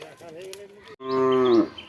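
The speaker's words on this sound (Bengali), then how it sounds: "যতক্ষণ না গোপালদের গরু বন্ধু বসাবে ততক্ষণ চিল্লাবে" A cow moos close by, a short low call followed by a louder, longer drawn-out moo.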